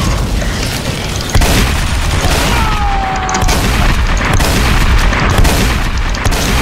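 Rocket explosions from rocket jumping in the Roblox game Typical Colors 2 boom repeatedly and loudly amid a dense barrage of game combat noise, with bursts coming in quick succession.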